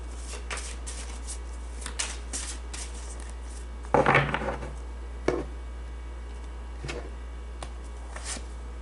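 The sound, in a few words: shuffling Vintage Oracle tarot cards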